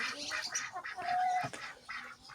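Several ducks call in a muddy farmyard, a run of harsh quacks coming in quick repeated bursts at moderate loudness, close by, with no talk over them.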